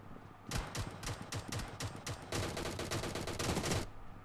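Shotgun gunfire in the mobile game BGMI comes as a rapid run of sharp, loud blasts, about a dozen shots in quick succession with a brief pause midway, then a denser burst.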